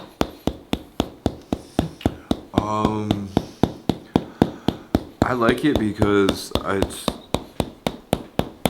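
Steady, rapid rhythmic tapping from a hammer massage on the body, roughly three strikes per second and close up, continuing through a stretch of talk.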